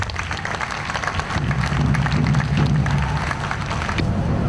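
A crowd breaks into sustained applause at a government event in Ondo State, Nigeria, many hands clapping at once, swelling slightly louder midway and continuing steadily.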